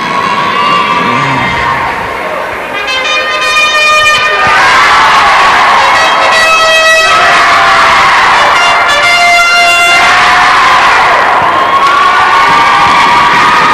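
A high school hockey arena crowd cheers and shouts in response to a trumpet, with loud sustained roaring and brassy horn blasts rising and falling in repeated waves.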